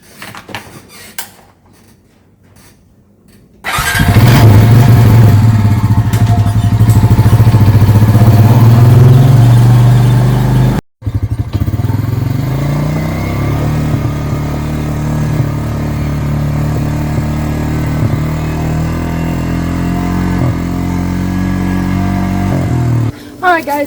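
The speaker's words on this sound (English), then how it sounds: "I have the four-wheeler all filled up and ready to go" A four-wheeler ATV engine, fuelled up for trail clearing, starts after a quiet moment and runs loud and close, rumbling steadily with small shifts in revs, cutting out briefly, then idling on at a lower, steady level.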